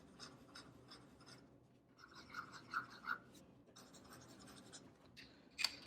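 A music-nib fountain pen scratches across soft cotton writing paper, with quiet intermittent strokes and a few louder scrapes, close and faint in a still room.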